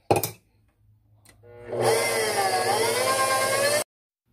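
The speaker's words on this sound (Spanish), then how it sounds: "Ahora voy a agregar los huevos. Y voy a poner a batir por un minuto más." An electric mixer beats eggs into mocha cake batter, starting with a brief burst, then a short pause and a rising whine before it runs steadily and loudly for about two seconds and stops abruptly.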